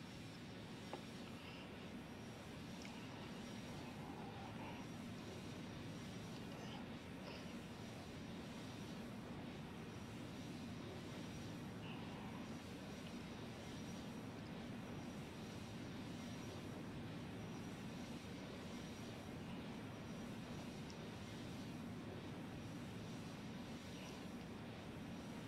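Steady, loud drone of Antonov An-124 jet engines in the Roblox flight game Aeronautica during a high-altitude supply drop, a constant roar with no talk.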